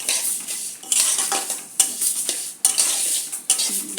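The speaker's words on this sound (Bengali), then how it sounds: "আমি মুগ ডাল দিয়ে করবো, তাই ডালটা ভেজে নিচ্ছি আগে।" Mung dal sizzles as it dry-fries in a pan, with a spoon scraping and clinking against the metal in regular stirring strokes, loud and close with no talk.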